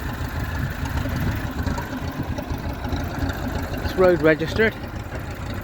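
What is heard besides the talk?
1958 Massey Ferguson 35 tractor engine idling on TVO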